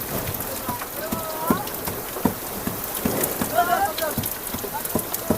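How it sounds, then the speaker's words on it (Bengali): Heavy rain drums steadily on a hilsa fishing boat out at sea in wind, a constant wash of drops broken by sharper hits, with faint tonal chirps in the background. "বাতাস এবং বৃষ্টি উভয় কিন্তু একসাথে ধাক্কা দেওয়া শুরু করে দিছে।"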